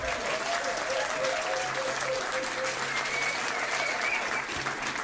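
A pub quiz crowd at The Granta claps for the sound engineers working downstairs, a full, even burst of applause lasting throughout, with a faint tonal hum and some murmuring mixed in.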